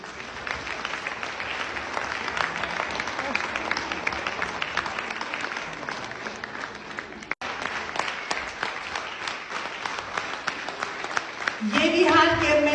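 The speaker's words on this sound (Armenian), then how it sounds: "Եկեք բարձր ծափերով ծափահարենք" An audience at an Armenian public ceremony claps in sustained applause, growing louder near the end as a voice comes in over it.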